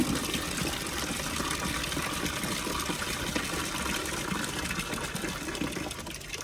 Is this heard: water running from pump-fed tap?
yes